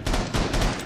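Enemy suppressing gunfire in Red Orchestra 2 crackles as a dense, loud burst of rapid automatic shots lasting under a second.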